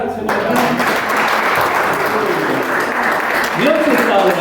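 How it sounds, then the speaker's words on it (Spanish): Dense, steady clapping from a crowd fills the whole stretch, with voices rising through it near the end. "Le damos un aplauso al Señor."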